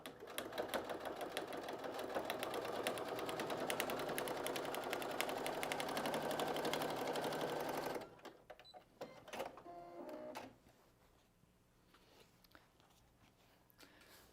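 A sewing machine stitching a zipper onto fabric runs in a fast steady whir for several seconds, stops, gives a short burst, then falls quiet.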